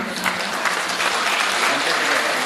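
An audience claps together at a gathering during a revolutionary song honoring martyrs, a dense, loud, continuous burst of applause filling the whole moment.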